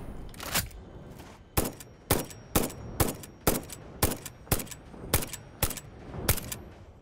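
Rifle shots from the video game Satisfactory, about ten sharp, loud reports fired at a steady rhythm roughly every half second, with brief gaps between them and no talking.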